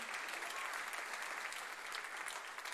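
A church congregation applauds at a Sunday morning service, a steady, dense wash of clapping from many hands that holds evenly throughout without pause.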